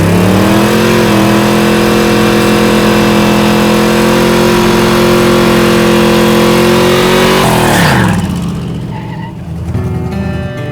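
A truck dragster's engine roars at a high, sustained rev with a stuck throttle, loud and close for about eight seconds before the pitch drops and the engine falls to a rough idle, with no talk.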